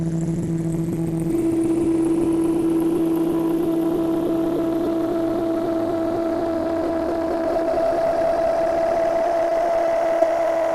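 A truck engine in a video game hums steadily while reversing, a sustained synthetic drone with a slowly rising pitch, loud and alone with no talk.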